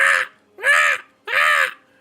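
A voice imitates Maggie the bird squawking, giving three loud, harsh crow-like caws in quick succession, each about half a second long with brief gaps between.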